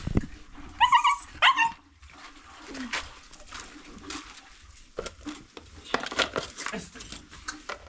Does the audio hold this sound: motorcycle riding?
no